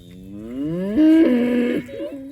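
A cow moos loudly and close by on a farm, one long drawn-out bellow that rises and then wavers before trailing off.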